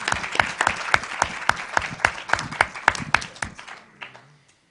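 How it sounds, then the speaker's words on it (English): Audience applause at a Stanford Medical School debate, a dense burst of clapping from a crowd that holds steady for several seconds, then thins out and fades away. "If we could give Bo a round of applause."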